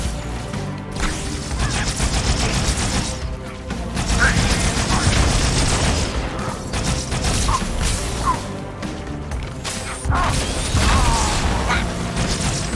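Halo 2 gunfire: steady bursts of weapon fire and mechanical clatter in continuous combat, with crashes and whooshes, a player's voice talking throughout.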